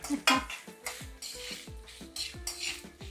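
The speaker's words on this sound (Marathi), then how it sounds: "या पनीराला आपण थोडं तूप दाखवूया." Crumbled paneer roasting in ghee in a kadhai: a spoon scrapes and clinks against the pan in a steady rhythm of repeated strokes over a soft sizzle, close and fairly loud, with no talk.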